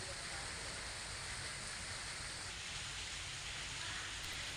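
Heavy monsoon rain pouring down in Junagadh, Gujarat, a dense, even hiss of falling water that holds steady throughout without breaks, fairly faint overall.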